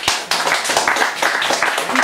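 Audience applause after a live music set by a duo, a loud, dense burst of many hands clapping close by, with scattered voices mixed in.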